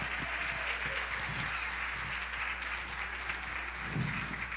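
A standing church congregation applauds in a continuous, even wash of clapping, heard at moderate distance over a low electrical hum, with faint voices mixed in.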